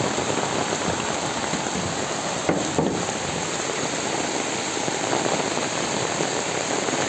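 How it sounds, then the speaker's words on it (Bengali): Heavy rain falls steadily on a village, a dense, even hiss of drops on surfaces close by, with a couple of brief louder spatters. "বৃষ্টির ভিতরে ছাতা মাথায় দিয়া বোনের বাড়ি আসলাম"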